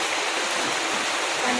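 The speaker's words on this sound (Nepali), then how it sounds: "पानी परिरहेको छ" Steady rain falling, a dense even hiss of drops with no breaks, close and moderately loud, no talking.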